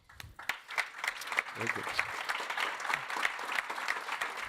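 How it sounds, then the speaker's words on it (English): Audience applause at a high-level conference on fundamental rights, a steady burst of many hands clapping through the whole stretch, with someone speaking briefly over it near the start. "A big applaud."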